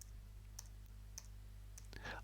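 Repeated taps on the T key of a computer keyboard, used to set the tempo in music software: about five sharp, faint clicks at an irregular pace over a steady low hum.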